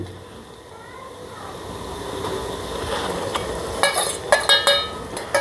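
Coriander and coconut paste is stirred into a homemade chicken curry in a pan, a low frying sizzle building gradually, then several scraping spatula strokes and clanks against the metal near the end.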